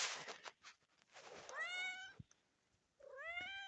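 A farm cat named Swirl, one of the alpha cats, gives two drawn-out meows close by, each following rustling and scuffling noises, with a short quiet gap between them.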